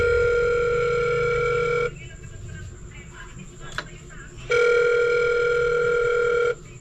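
A telephone ringback tone on an outgoing call sounds in two long steady bursts separated by a quiet gap, clear and close with faint background noise.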